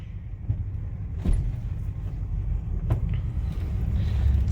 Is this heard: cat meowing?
no